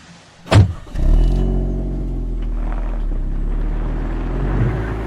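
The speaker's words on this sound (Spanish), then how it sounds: "El sargento Gutiérrez se subió a su auto y se dirigió al servicio médico forense." A car starts up and drives off as a sound effect in a Spanish-language audio drama: a sharp door-like thump, then a loud engine that revs and holds a steady drone as it pulls away.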